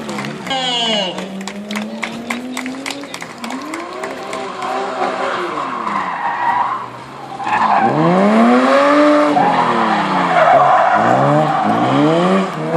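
A drift car's roaring engine revs up and down at a national drift championship round in Vidin while tires squeal loudly and continuously, with sharp rising and falling pitch sweeps throughout.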